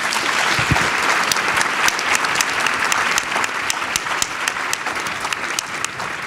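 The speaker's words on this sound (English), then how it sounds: "Please give them a round of applause" An audience applauds a distinguished panel at an event about women in California's Legislature, a dense, steady wash of many hands clapping that stays loud and even throughout with no voices over it.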